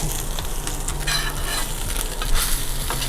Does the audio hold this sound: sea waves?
no